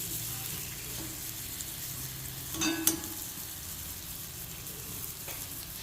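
Chilli powder and coriander powder sautéing in a pan for bitter gourd fry, a faint, steady low sizzle with a brief clatter of a utensil midway.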